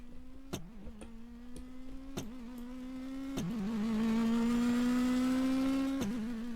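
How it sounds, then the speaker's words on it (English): A rally car in the game Shakedown Rally, heard during a replay from a distant spot, drives past with a steady engine drone that gradually grows louder and rises in pitch, along with faint periodic ticking. "let's see how it looks like when the car passes by"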